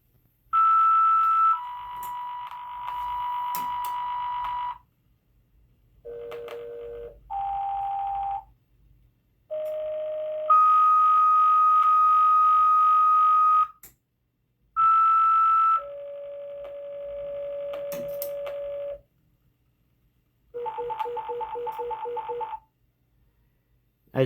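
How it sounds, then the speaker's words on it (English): A siren control board plays an alert tone sequence: steady electronic tones of different pitches in distinct blocks, each holding a second or several, separated by short gaps, loud and clean with no talking. "we'll set it up in a sequence here by alert, other tones, and cancel"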